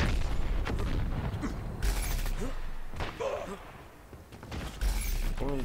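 A sticky grenade detonates in a video game, with several sharp booms and thuds spread across the moment amid game noise.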